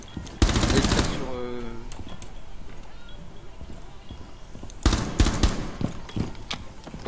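Rainbow Six Siege gunfire: two loud bursts of rapid automatic shots, one near the start and another around the middle, each lasting about a second. Quieter game noise and a talking voice fill the gaps between them.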